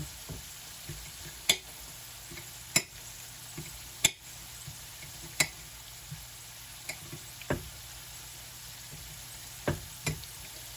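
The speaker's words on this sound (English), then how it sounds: "Just the potatoes frying." Potatoes frying in a pan for a frittata, a steady soft sizzle throughout with sharp irregular clicks and taps of a utensil stirring against the pan, close and without talk.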